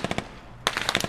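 Gunfire in the tactical shooter game Squad: two quick close bursts of rapid automatic shots, separated by a brief lull, with no talk.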